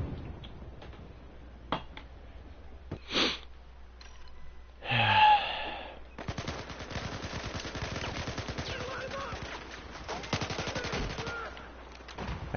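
Gunfire from the Battlefield 4 video game, a scattered run of sharp shots and short bursts of varying loudness over a steady game background, with one louder burst near the middle.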